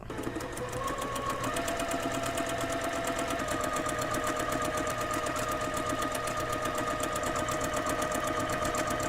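Close and steady, a sewing machine whirs without pause as it stitches basting rows along the top and bottom of a puffy sleeve, its rapid needle rhythm even throughout.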